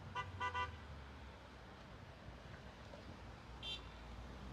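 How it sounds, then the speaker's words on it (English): A few short car horn toots, two quick blasts at the start and another a few seconds later, distant over faint traffic hum. "You hear those horns honking?"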